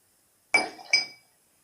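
Ice cubes clink into a glass for a cocktail, two bright, sharp ringing knocks about half a second apart, close and clear, with each one fading into a short glassy ring over silence.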